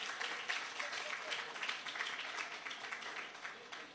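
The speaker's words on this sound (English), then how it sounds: "all to give yourselves a round of applause for all the interns" An audience at a closing ceremony claps for interns, a dense, sustained round of applause from many hands that stays steady and fairly loud throughout.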